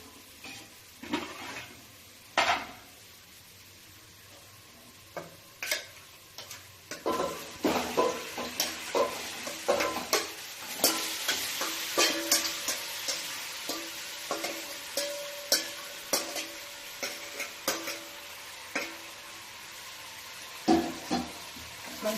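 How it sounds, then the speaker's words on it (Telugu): Chicken pieces fry with browned onions and oil in a pan for a chicken curry, a soft sizzle under repeated spoon stirs and clinks against the pot, fairly quiet and close, without talk. "ఇప్పుడు ఇందులో మనము చికెన్ వేసుకుందాం."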